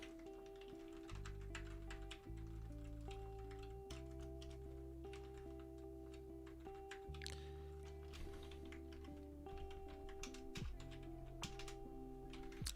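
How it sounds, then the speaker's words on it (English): Computer keyboard keys clatter in quick irregular bursts, close and fairly quiet, over a faint steady background hum. "Excuse my typing."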